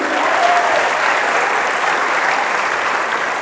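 An audience at a motivational seminar applauds continuously, a dense, even wash of many hands clapping at steady loudness throughout, with no talk over it.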